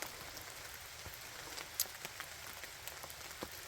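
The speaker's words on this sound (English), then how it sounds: "So as you can hear, it started raining a little bit ago." A passing rain shower falls on a forest trail, a faint, even hiss of rain with scattered soft drips and patters landing on leaves and ground.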